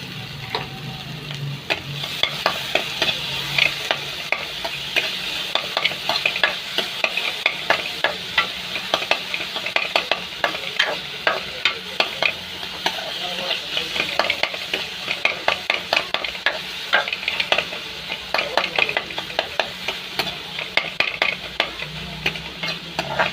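Tomatoes sizzling and being stirred in a hot pan while chilli Maggi noodles are cooked, with a steady loud frying hiss and constant scraping of the spatula throughout, heard up close with no voices.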